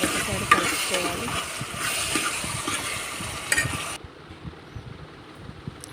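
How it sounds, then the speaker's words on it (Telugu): Bottle gourd curry being stirred in a pan: a steady sizzle with soft scraping that drops to a quieter simmer about two-thirds of the way through, close and with no talk. "నెమ్మదిగా మంచిగా మిక్స్ చేసుకొని మూత పెట్టి"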